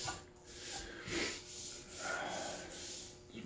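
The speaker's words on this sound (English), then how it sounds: "I'm just sitting here planing away" A small Bailey hand plane taking very thin shavings off a timber-framed table base, its iron set with a slight camber: soft, repeated scraping strokes of wood rasping in a steady rhythm, close and fairly quiet.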